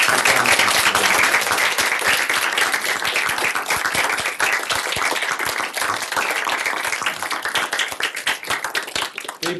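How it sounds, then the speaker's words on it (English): A large graduation audience claps steadily for nursing school faculty and staff at a pinning and hooding ceremony, dense, loud applause filling the hall throughout with no break. "give a round of applause for the tremendous faculty and staff"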